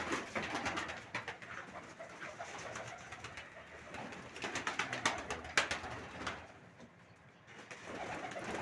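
Pigeons feeding on corn, sunflower seeds and peas in a loft, with a soft, steady pecking and rustle under repeated close cooing that rises and falls throughout.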